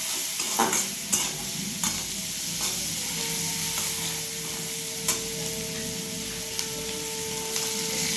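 Spices with turmeric stirred and fried in a pan for a pomfret mustard curry, steady close sizzle with repeated scraping strokes of a spatula and occasional light clicks.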